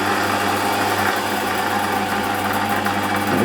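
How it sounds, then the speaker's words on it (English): A metal lathe running slowly while reaming a part for a small model engine, a steady mechanical hum with a low repeating pulse, close and continuous. "We need to slow the lathe down considerably for this."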